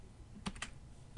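Keys on a computer keyboard clack while an Excel formula is entered, a short burst of two or three quick taps followed by a pause and one more tap, close and fairly quiet.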